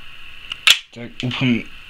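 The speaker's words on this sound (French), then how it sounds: "vous déclenchez l'arrêtoir de culasse, donc elle vient, et voilà, elle est démontée" Slide stop released on a WE Glock 18 Gen3 airsoft gas blowback pistol during disassembly, giving one sharp metallic snap followed by a brief sliding clatter, close and loud.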